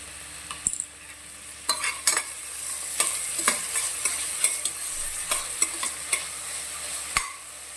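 Chopped onions fry in hot oil in a pan, a steady high sizzle broken by repeated sharp stirring scrapes at irregular intervals, close by.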